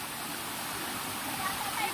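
A swollen river rushes high and fast, a dense continuous roar of churning water close by, steady and loud throughout the short stretch.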